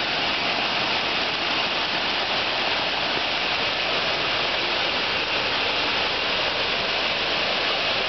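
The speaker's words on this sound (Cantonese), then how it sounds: "就係一瀉千里嘅瀑布" The large Xiafang waterfall plunges in a long cascade, giving a dense, unbroken roar that stays loud and constant from start to end with no talk over it.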